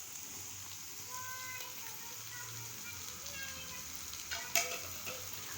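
Chicken keema masala fries steadily in a pan after capsicum is added, with a continuous hiss, stirring and an occasional louder clatter. A faint voice can be heard in the background.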